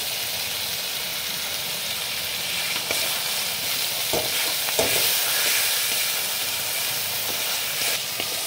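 Spice paste frying in oil for a taro and tengra fish curry, a steady close sizzle and hiss with a few brief stirring scrapes partway through, no voices.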